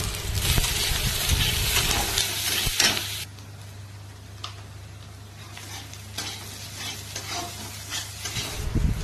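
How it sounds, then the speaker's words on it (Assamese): Boiled potatoes fry in hot oil with salt, turmeric and chili powder, a steady close sizzle broken by spoon scrapes and stirring knocks, loudest at the start and the end. "এতিয়া ইয়াত নিমখ হালধি আৰু জলকীয়া পাউডাৰ দি লৰাই থাকিম"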